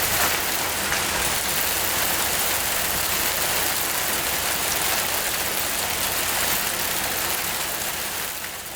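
Dense hail or heavy rain pounding steadily outdoors during lawnmower repair, a loud continuous broadband roar of impacts with no pauses, fading slightly at the end.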